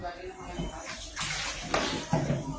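Crabs and shrimp being rinsed in water, with soft sloshing and splashing running steadily close by for a few seconds and a few louder splashes toward the end.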